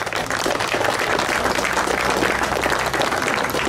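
Steady audience applause at an awards ceremony for a second-prize winner, dense and continuous clapping throughout with no pause.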